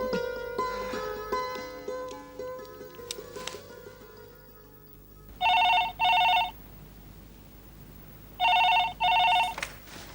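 A telephone rings in two bursts of paired electronic trills, loud and close, after a stretch of soft background music in a Hindi TV drama scene.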